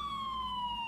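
An ambulance siren in Arma 3 sounds a steady, sustained wail with a slowly falling pitch over a low vehicle rumble, heard briefly and at moderate distance with no talking.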